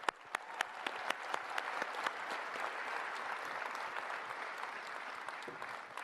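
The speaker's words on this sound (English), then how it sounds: "So please give yourselves a big round of applause, and thank you for coming to Tech Exchange 2024." Audience applause filling a conference hall at the close of the Tech Exchange 2024 event, a steady, dense wash of many clapping hands with sharper individual claps popping out, lasting about six seconds without any voices.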